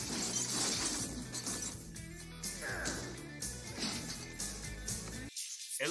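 Glass shatters in a comedy movie scene from Ace Ventura, a loud crash with splintering high debris heard over a busy music and effects track, with a brief voice present.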